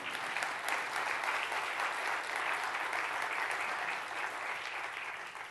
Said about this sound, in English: I shall pass your applause on to Justin Gillis.